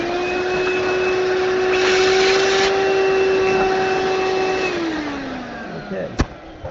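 A milling machine cutting about a quarter inch of wood on a table build, a loud steady whining drone that winds down after several seconds, followed by a couple of small knocks.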